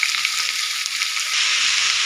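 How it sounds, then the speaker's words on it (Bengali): Carrots and potatoes fry in a pan with a steady, dense sizzle that holds for about two seconds, loud and close, with no talking. "গাজর, আলু সবার করে ভাজি করে নেব।"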